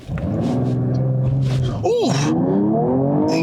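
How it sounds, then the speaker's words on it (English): A 2020 Mercedes-AMG E53 with its inline-six and nine-speed multi-clutch gearbox launches hard in sport mode, a steady loud engine drone climbing through the revs with a sharp rising sweep near the middle as it shifts, while an occupant talks. "I want to do a quick launch in this car"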